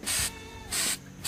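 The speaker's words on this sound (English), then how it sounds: "I'm gonna use a lighter spray right now." Spray paint hisses from a can onto an ant hill geocache in three short, sharp bursts separated by brief pauses, close and clear.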